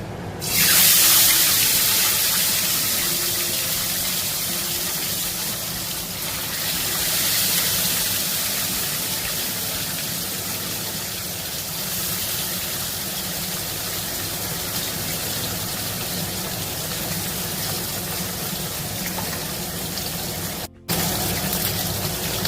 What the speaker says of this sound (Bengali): তেল গরম হয়ে গেছে কাঁটাগুলো আমি ভেজে নেব